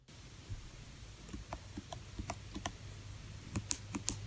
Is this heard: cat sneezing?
no